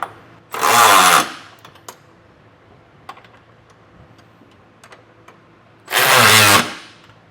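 A power tool tightens hitch hardware while a Curt trailer hitch receiver is fitted to a 2025 Hyundai Palisade. Two loud, close impact-style bursts of about a second each come several seconds apart, with faint clicks and handling noises between them.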